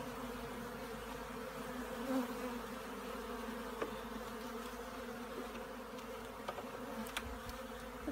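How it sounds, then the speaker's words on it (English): Many bees buzz at an opened beehive during a first inspection, a dense steady drone close by with occasional louder individual bees passing, no talk. "Wow, there's a lot of bees there."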